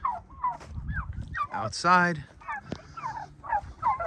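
Pasture-raised turkeys gobble close by in a busy, overlapping flock. Their repeated warbling calls come with one louder rattling gobble, and a brief spoken word can be heard among them.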